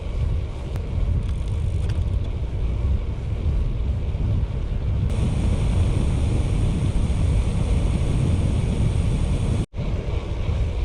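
A strong north-easterly wind rushes steadily past a cyclist on a long-distance ride through countryside near Le Grand Pressigny, a loud continuous roar with one brief dropout near the end.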